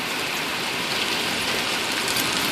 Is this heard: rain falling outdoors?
yes